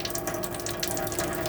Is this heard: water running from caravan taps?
yes